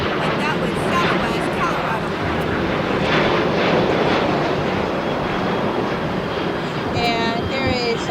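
Airliner rolling down the runway at LAX, a loud sustained jet engine roar that swells and holds steady, heard from nearby with a faint voice in the background.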